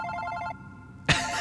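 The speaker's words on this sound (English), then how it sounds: "Oh, wait, that's my phone." A phone ringing in the video game Super Paper Mario, a tonal ring that cuts off to near-quiet before a sudden loud burst of game sound.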